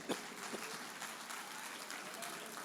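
A church congregation applauds in a steady wash of many hands clapping, moderately loud and sustained for a few seconds with no pauses, slightly distant in a reverberant hall.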